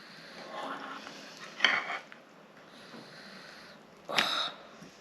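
A spoon scraping and scooping Sussex pond pudding out of a bowl, two distinct clinking scrapes standing out from quiet, soft handling sounds in between.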